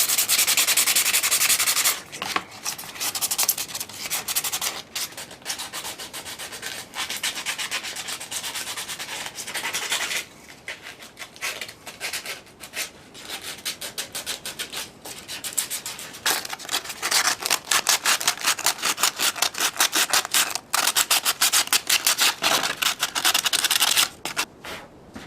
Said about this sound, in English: I have some 60 grit sandpaper, and I'm going to sand this mask now.